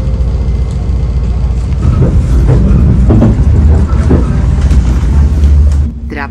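Inside a passenger train running from Riga to Madona in Latvia, a loud, steady low rumble of the carriage fills the space, with rattling and clatter throughout and a drop in level near the end.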